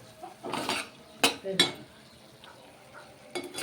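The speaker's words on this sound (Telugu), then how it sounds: "టమాటా పేస్టు ఇది కలిపేసుకుందాము" A utensil stirs tomato paste into broccoli curry in a pan, giving a few separate scraping clinks and knocks spaced through a quiet stretch with a faint sizzle beneath.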